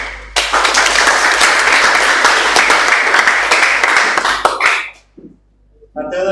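Students applauding in a classroom, a loud, close burst of clapping lasting several seconds before stopping abruptly, followed by a brief pause and voices.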